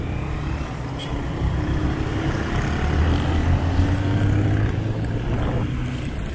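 Road traffic at a busy crossing in Tanzania: a continuous rumble of car and truck engines passes nearby, with a few faint horn-like tones over it.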